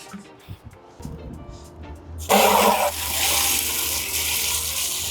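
Water gushes loudly into a bucket used for rinsing aquarium sand, a sudden close rush that settles into a steady pour, after some quiet handling knocks.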